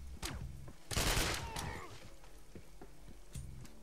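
Gunfire rings out in a shooter video game: a few scattered shots, then a loud, dense burst about a second in, followed by fainter intermittent pops.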